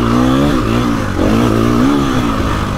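A KTM EXC-F 250 four-stroke dirt bike engine revs loud and close, its pitch climbing and dipping in a couple of rising sweeps with no talking over it.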